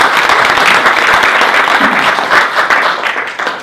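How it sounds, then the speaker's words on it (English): A crowd at a network marketing business presentation claps loudly, a dense, continuous round of applause close by that holds steady and tapers only slightly at the end. "Give me a round of applause"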